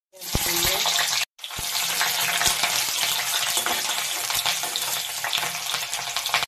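Dried red chilies frying in mustard oil in a wok, a loud steady sizzle running nearly throughout with a brief break early on and faint clinks of stirring.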